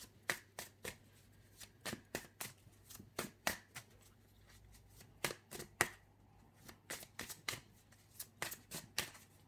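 Tarot cards shuffled for a reading, a rapid series of crisp riffling snaps and slaps in bursts of quick strokes, close and clear over a faint low hum, with no voices.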